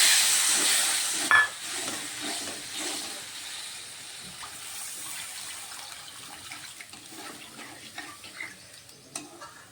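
Water poured into a hot pan of fried spices bursts into a loud hiss and steam, then settles into a quieter simmering bubble with occasional faint clinks.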